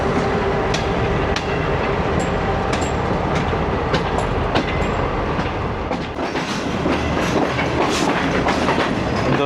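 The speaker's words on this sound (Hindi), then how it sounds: "4927 शंटिंग लोकोमोटिव" Shunting locomotive 4927 moving on rails near Lahore Junction, with a loud continuous rumble of wheels and rhythmic clickety-clack over rail joints, plus occasional metallic squeals, heard up close throughout.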